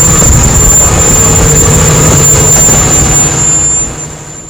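A methanization plant engine runs steadily inside a container with the door open, a loud, constant roar with a high whine that eases slightly near the end.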